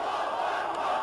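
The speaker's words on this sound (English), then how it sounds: "the crowd chants "God is great" as they carry the body of a young girl" Crowd at a funeral in Hama, central Syria, chanting in unison as mourners carry a young girl's body; dense, steady massed voices, loud and continuous throughout the short stretch.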